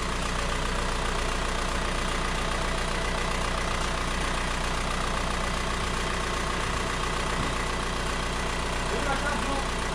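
A car engine idles steadily and continuously after an engine swap, a constant close rumble throughout with no clear start, while people talk over it.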